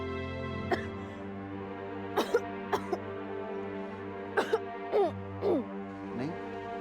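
A woman coughs several times in short, scattered bursts, close up, over a steady low background hum.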